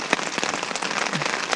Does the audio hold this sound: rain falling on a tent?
yes